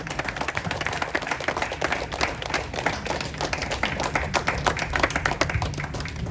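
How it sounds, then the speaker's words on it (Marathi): Dense audience applause fills a stage event as a producer is called up, many hands clapping steadily and loudly without pause, no voices over it. "जोरदार टाळ्या"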